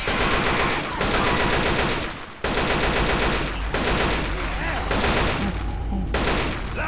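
Rapid gunfire from Left 4 Dead 2 in dense, loud automatic bursts, broken by a few short pauses, with a brief drop near the middle before the shooting resumes.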